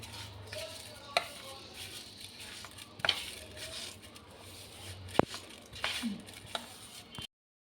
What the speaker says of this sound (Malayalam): ഇത് കൈവച്ചൊന്ന് മിക്സ് ചെയ്യാം